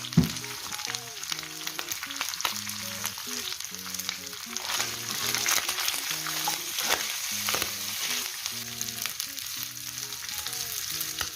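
Chicken liver fries in a pan for a warm salad, giving a steady crackling sizzle that runs without pause under tuneful background music, close and even in loudness.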